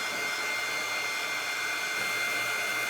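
A hair dryer blows on wrinkled, torn homespun fabric that is being balled up as it dries, producing a steady, close, unbroken whooshing hum with no talking.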